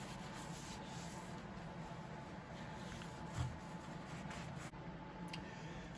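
Steady, close rubbing of oil finish into an old Norlund hatchet, a soft continuous scrubbing texture that keeps going without pause and has one slightly louder swipe partway through.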